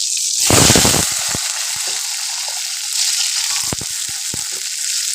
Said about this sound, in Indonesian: aku ini goreng pindang dan balung